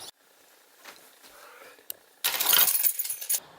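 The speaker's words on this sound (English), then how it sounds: "Let's go grab my keys real quick." Keys being grabbed and jangling, a faint clink early on, then a loud burst of metallic jingling for about a second before fading out.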